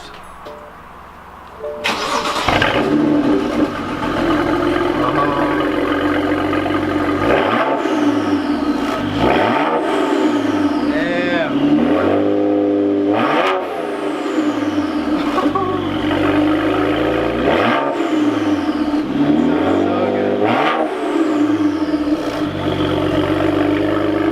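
A BMW N54 engine with a BMW Performance exhaust cranks and catches, then revs up and down several times in loud, sweeping surges before settling into a steady rumble.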